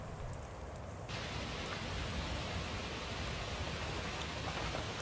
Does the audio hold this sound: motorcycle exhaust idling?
no